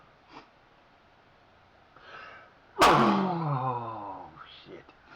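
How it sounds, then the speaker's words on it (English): A sudden loud sneeze bursts out close to the microphone, with softer breathy sounds just before it and a trailing exhale after. "I hate sneezing."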